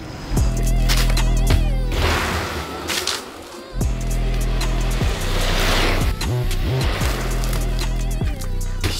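Hoverboard motor vehicle on a test ride at 48 volts, a loud steady whine and rolling rumble with shifting tones, briefly dropping off near the middle before surging again, no talk.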